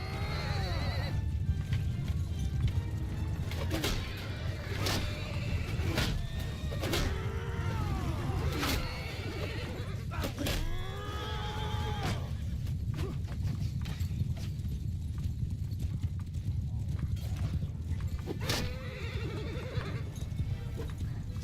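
Horses gallop in the medieval battle game Mount & Blade Bannerlord, with rhythmic hoofbeats under repeated neighs and whinnies, sharp impacts punctuating the clatter, and a continuous low rumble of battle noise behind it all.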